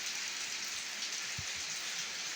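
Steady rain falls during a typhoon in the Philippines, a soft, even hiss of drops on surfaces with a faint low thump in the middle.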